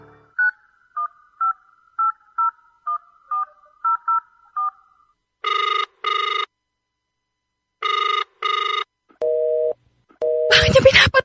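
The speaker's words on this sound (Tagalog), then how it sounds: "Bakit niya pinapatay yung tawag ko?" A phone call is placed with a quick series of beeping keypad tones, followed by two paired ringing bursts and lower tones before the line is cut off in a rush of harsh noise.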